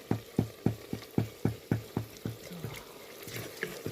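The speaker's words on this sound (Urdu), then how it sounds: "پیاز کو فرائی کرنے کے لیے پیاز کے ساتھ میں جنجر گارلک فریش کوٹا ہوا ایڈ کروں گی" Sliced onions frying in a home kitchen pan alongside freshly crushed ginger and garlic, heard as a quick run of about ten regular stirring scrapes and clicks over a soft sizzle, close and fairly quiet.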